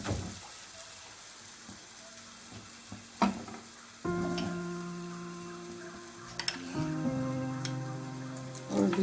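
Corn flour makki ki roti cooks on a hot griddle with a soft, steady sizzle, broken by a few clicks and light handling noises, then a slightly louder hiss partway through, with no voices.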